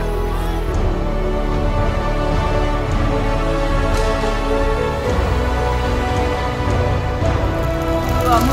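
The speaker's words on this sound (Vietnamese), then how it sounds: "Mưa rất là lớn, đường rất là trơn trượt." Heavy rain pours steadily on a slick mountain road in Lam Dong, a dense, loud, unbroken hiss with scattered drops, heard alone with no voices.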